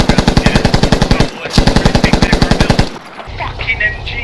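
Rapid, loud machine-gun fire in the video game Squad: two long, evenly paced bursts broken by a brief pause, then the firing stops and leaves a lower rumble of ambient battlefield noise.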